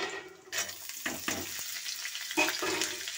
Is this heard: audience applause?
no